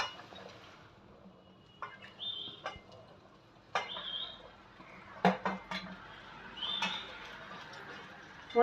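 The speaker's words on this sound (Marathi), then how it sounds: "आता आपण घालणार आहोत त्यात छानपैकी व्यवस्थित चिरलेली भेंडीची भाजी" Chopped okra goes into hot oil seasoned with asafoetida in a pan, heard as faint scattered clinks and scraping of utensil against the pan with soft sizzling in a quiet kitchen, no talking.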